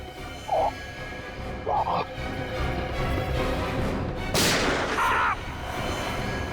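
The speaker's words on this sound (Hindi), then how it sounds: "सर गोली चली है" A sharp gunshot-like crack bursts out once amid a busy, noisy scene, with a couple of short yelping sounds before it and tense background ambience throughout.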